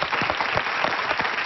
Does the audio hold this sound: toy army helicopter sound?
no